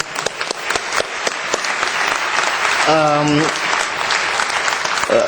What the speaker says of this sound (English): I'd like to invite you to give a round of applause to Najat